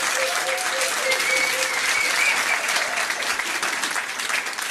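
Quiz teams in a pub break into sustained applause, a dense, steady patter of many hands close by that holds at an even level throughout, with a few faint voices underneath.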